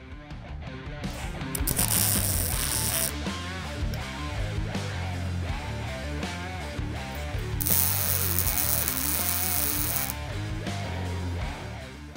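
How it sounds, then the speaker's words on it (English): MIG welder tacking the left and then the right end of a metal part in a makerspace: loud sustained crackling buzz in two long bursts, each lasting several seconds, with no talk over it. "I'm just gonna tack the left and then the right side."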